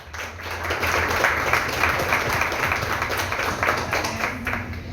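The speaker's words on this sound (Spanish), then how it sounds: "quiero que le demos un aplauso a nuestros TMTs" A church congregation applauds at length, dense continuous clapping from many hands, loud and even throughout with no talk over it.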